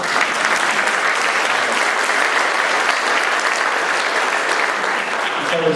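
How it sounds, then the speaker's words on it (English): Audience applause at a global trade and investment symposium, a dense, even roar of many hands clapping that holds steady and fairly loud throughout. "Y'all can applaud."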